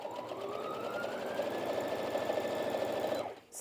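A Brother Innov-is NV1800Q sewing machine stitches steadily for about three seconds with a bright motor whine, then stops abruptly, leaving a short quiet tail.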